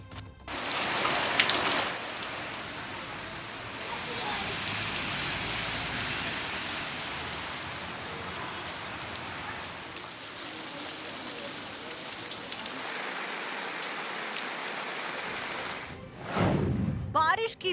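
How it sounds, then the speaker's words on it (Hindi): Heavy monsoon rain pouring down during flooding in India, a continuous loud hiss of downpour on surfaces throughout, with a brief louder burst near the start and a short whoosh near the end. "बारिश की बड़ी आफत"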